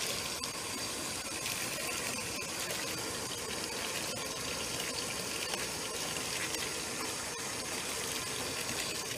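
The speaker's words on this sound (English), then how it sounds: "maybe I need to put more water" Tap water runs steadily into a sink to fill it and soak an item during spring cleaning, a continuous close splashing gush with no talk over it.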